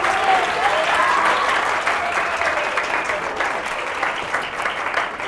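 A studio audience at a Catalan television word game show applauds in steady, sustained clapping that carries on at an even level and fades slightly toward the end.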